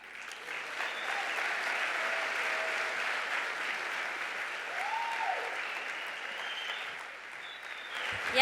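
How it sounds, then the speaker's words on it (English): Applause from the audience at a Los Angeles gala rises steadily into a full, continuous round of clapping that stays fairly even throughout. "let's give him a round of applause"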